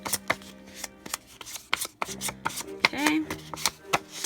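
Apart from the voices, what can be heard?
paper being crumpled and roughed up for a card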